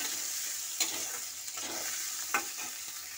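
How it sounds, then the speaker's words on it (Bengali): A spatula works chopped tomato through fish in a frying pan, giving a few scraping strokes over a continuous sizzle, close and with no voices. "টমেটো কুচিটাকে আমি ভালো করে এটা নেড়ে নেব।"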